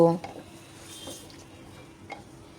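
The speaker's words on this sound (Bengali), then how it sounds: "পানি দিয়ে নাড়াচাড়া করে নিচ্ছি যাতে মাংসের গায়ে মশলাগুলো লেগে যায়" Meat and spices are stirred with added water in a pot while cooking potato-and-meat curry with chui jhal, giving soft scraping and wet squishing strokes, fairly quiet, with a brief sizzle.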